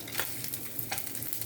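Whole cumin, bay leaf, dried chilli, cinnamon, cardamom, clove and black pepper sizzle in hot oil in a pan, a soft, continuous frying hiss dotted with small crackles and pops.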